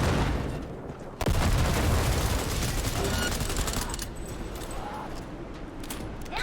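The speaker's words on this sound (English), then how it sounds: "Let's throw a couple of nades." Grenades go off in Cyberpunk 2077 with a sudden loud boom, followed by a sustained, chaotic wash of gunfire and rumbling blasts that slowly eases off.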